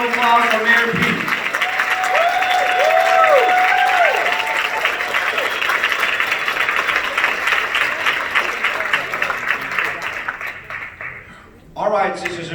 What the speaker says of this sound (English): let's give a round of applause for Mayor Pete.